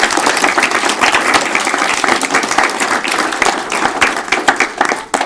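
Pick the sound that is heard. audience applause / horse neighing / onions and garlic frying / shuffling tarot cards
audience applause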